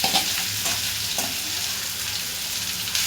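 Ginger, garlic, onion and green chili dropped into hot oil with cumin, sizzling and frying steadily and close, with a few stirring scrapes, while making a spicy besan roll gravy.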